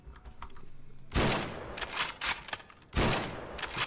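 Shotgun blasts in Garry's Mod DarkRP, a few loud sharp bursts about a second apart after a quieter stretch, close and punchy with a brief decay.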